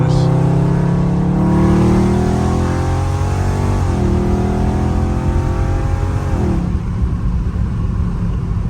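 Loud Dodge Scat Pack V8 engine while driving, roaring close and continuous with pitch sweeping up and dropping as it downshifts, a deep rumbling exhaust filling the whole stretch.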